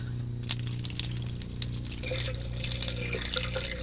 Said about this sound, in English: I can draw warm water,